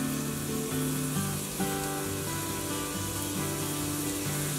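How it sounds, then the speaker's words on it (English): Chopped onion and jalapeno sizzle steadily in olive oil in a pan, a close, continuous frying hiss that stays loud and even throughout with no one talking. "I'm just going to stir this around and let this cook 2 or 3 minutes."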